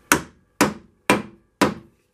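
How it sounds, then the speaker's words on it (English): Four evenly spaced, sharp mallet taps drive a spur drive into a walnut bowl blank on a lathe, each crisp knock close by with a short woody decay. "Give it a couple good taps with the mallet just to get it initially bitten into the piece of wood."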